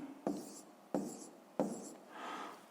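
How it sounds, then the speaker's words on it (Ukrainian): Pen strokes scratch on paper while a math calculation is written out, three quick, evenly spaced scribbles followed by a longer, softer stroke, quiet and close. "Давайте запишемо."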